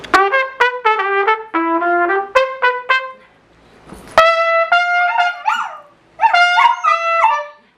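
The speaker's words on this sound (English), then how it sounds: "A singing dog." A pet dog howls in a house, a series of loud, close, wavering yowls and whines in two bursts separated by a short pause.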